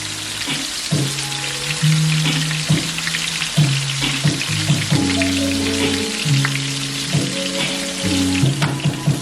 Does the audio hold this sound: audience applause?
no